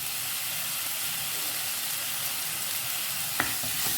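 Two small chopped tomatoes with salt fry in a pan with an even, continuous sizzle and hiss, broken by a single sharp utensil knock near the end, with no voices.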